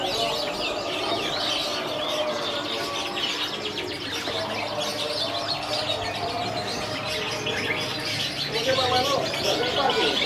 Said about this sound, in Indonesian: Kenari AF super jantan ya